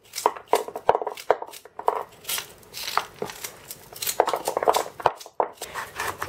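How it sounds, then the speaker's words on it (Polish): A knife chops celery finely on a board for a homemade vegetable soup-stock cube, giving a quick, uneven run of close, crisp taps with short pauses between bursts. "Również drobno seler kroję."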